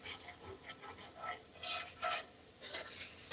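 A utensil scraping browned bits from the bottom of a hot pan while making breakfast gravy, irregular rasping strokes with faint sizzling between them, close and fairly quiet.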